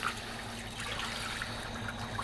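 Water pouring steadily into sugar in a pan to make syrup for traditional nougat, a continuous soft trickle close by with no talk.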